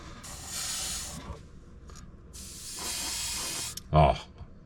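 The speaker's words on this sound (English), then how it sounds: "And I'll just spray a little bit on the back here." A Gaahleri compressor-driven airbrush sprays paint in two long steady hissing bursts separated by a pause, loud and close, ending with a short sharp puff.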